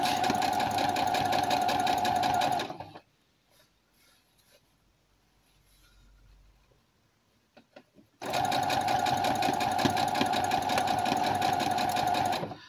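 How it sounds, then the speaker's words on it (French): A sewing machine stitches a fabric face mask with a pleat and elastic, running loud and steady for nearly three seconds, pausing through a quiet stretch with faint handling, then whirring again at full speed to the end. "Et je continue de coudre."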